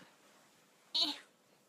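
A cat gives a single short meow, fairly close and clear, rising sharply out of a quiet indoor room and then fading.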